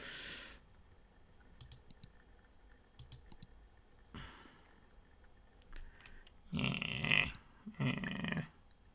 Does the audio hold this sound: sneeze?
no